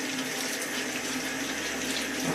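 Water runs steadily from a tap into a sink during a hair co-wash, a faint, even hiss with no breaks.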